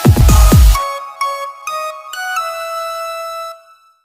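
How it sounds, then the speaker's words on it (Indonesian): An electronic telephone in a SpongeBob cartoon rings with a loud, bright repeating tone that starts in bursts and then holds before cutting off, following a short low rumble at the start. "Dimulai dengan diperlihatkan telepon yang berdering dan Squidward tidak mau mengangkatnya."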